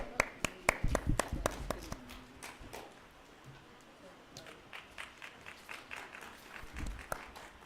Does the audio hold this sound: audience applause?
yes